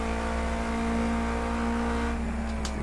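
A 100-horsepower car in the Project CARS 2 racing game accelerates with a steady, loud engine drone and layered harmonic whine, continuous throughout, with a brief higher whir near the end.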